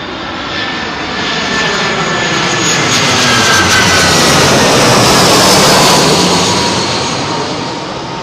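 A jet airliner on approach to runway 27L at London Heathrow roars overhead, swelling from a distant rush to a loud broad whine and then fading slightly as it passes.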